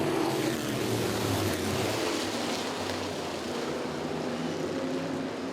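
Modified race cars roar around Southside Speedway in a continuous, broad engine drone that stays loud and steady as the field passes, with no clear individual revs standing out.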